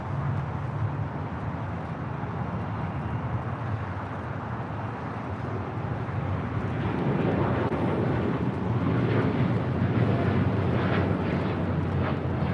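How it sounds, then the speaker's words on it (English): Japan Airlines Boeing 787-9 Dreamliner departing runway 25 right at LAX for Osaka: a deep, rumbling engine roar that grows louder and fuller partway through as the jet powers down the runway. "That Japan Dreamliner rolling down 25 right"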